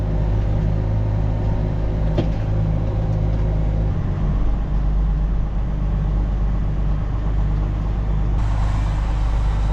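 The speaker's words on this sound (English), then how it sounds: "That truck over there is delivering molasses right now." A truck idling on a farm in winter while delivering molasses, a loud steady low diesel rumble with a sharp hiss near the start and a brief dip midway, heard close with no talking.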